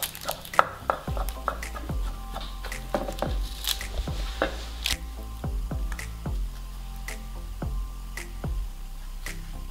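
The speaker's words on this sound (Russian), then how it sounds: "а уже в квадратном нарезаем квадратиками" A knife cuts square lavash flatbread into small squares on a board, sharp taps repeating in an uneven rhythm, close and fairly quiet.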